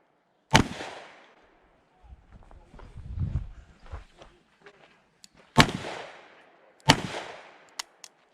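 Taurus Raging Hunter .454 Casull revolver firing three loud, sharp shots outdoors with clear echoing tails, the first alone and two more a second apart later, with faint shuffling and low noises in between.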